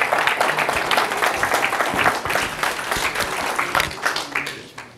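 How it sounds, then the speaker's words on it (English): An audience at a California 74th Assembly District candidate meeting claps steadily for several seconds, a dense, close round of applause that tapers off at the end. "So let's give her a round of applause."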